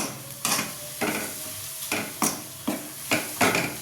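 Tomato paste with garlic fries in a pan for rasam, soft sizzling broken by repeated scraping stirs that come in a loose rhythm, about seven strokes, close and moderately loud.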